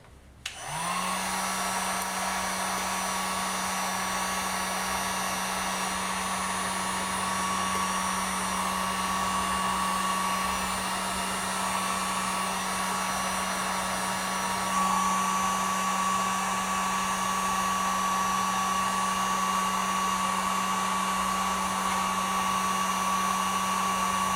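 A heat gun blasts steadily on a Harley-Davidson Low Rider S rear fender to loosen a reflector, a loud continuous whooshing roar with a fixed whine that runs unbroken from start to finish with no talking.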